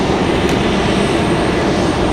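An Air Canada airliner's engines roar at Raleigh-Durham International Airport, a loud, steady, broadband drone close by with no break.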